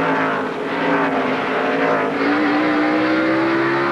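NASCAR stock cars at the 2002 Old Dominion 500 in Martinsville roar past in a loud, sustained engine drone, with pitch slowly rising as the cars accelerate, heard alone with no talk.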